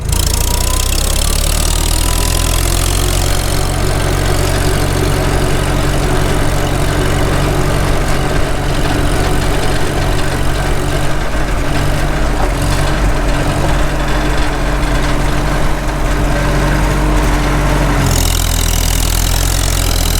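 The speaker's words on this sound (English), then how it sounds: "Check out low idle in fifth, see how it sounds." A Farmall H tractor engine with freshly repaired sleeves runs at low idle in fifth gear, a loud, continuous low chugging drone close to the microphone with a shift in tone near the end.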